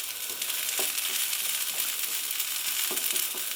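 Bubble and squeak, leftover vegetables fried in a pan on full heat, gives off a steady close sizzle and crackle with a few soft stirring taps and no talk.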